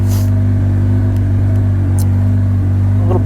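A 2014 Polaris RZR 800 side-by-side crawls over rocks in low range and all-wheel drive, its engine a loud, steady low hum with faint clunks and knocks from the rough ground.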